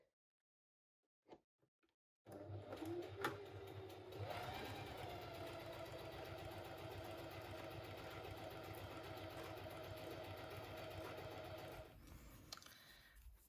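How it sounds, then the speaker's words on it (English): A sewing machine sews a longer-length straight stitch with twin needles. A few light clicks come first, then the motor runs as a steady, close whir with fast ticking for about ten seconds before stopping. "And then you literally just go ahead and sew"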